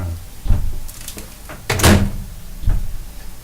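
A microwave oven door clicks and thunks open, with a latch release and a couple of soft bumps, close by in a quiet room.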